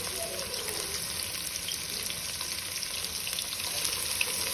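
Chopped tomato and curry leaves frying in a pan for uggani, a quiet, steady sizzle and hiss with faint stirring, fairly even throughout.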